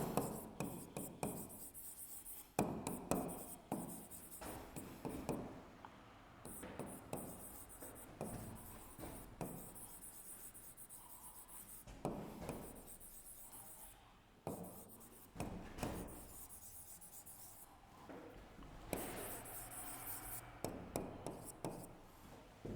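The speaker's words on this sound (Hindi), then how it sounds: "इसी क्रम में मैं एक सेंटेंस लिखता हूं यहाँ पे." Chalk or marker writes a sentence on a classroom board, a string of close scratchy taps and strokes in uneven bursts with short pauses, quiet and alone.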